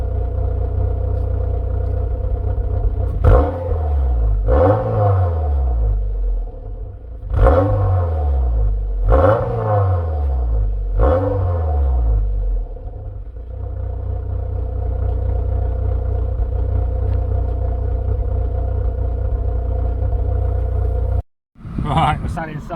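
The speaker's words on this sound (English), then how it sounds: "I'll let it tick over for a little while longer and give it a chance to get to temperature" An MG TF sports car engine idles steadily while warming up to temperature, a constant close rumble with several brief rises in revs early on and a short dropout near the end.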